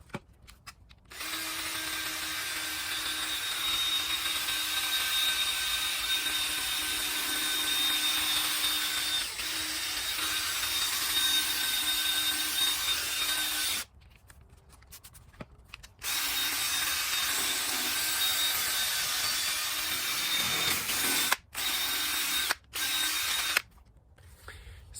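A power drill fitted with a 3M headlight restoration kit pad sands a car headlight, a steady high whine running for long stretches, broken by brief pauses and short bursts near the end, close and alone.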